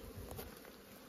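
Honeybees at an apiary with young bees emerging, a faint buzzing drone close by with a few soft taps and rustles near the start, quiet and steady.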